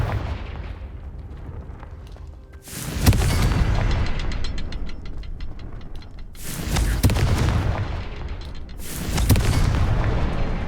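Three heavy booming blasts from a Confringo fire spell in a video game hit at spaced intervals over a low, rumbling background, each one loud and close.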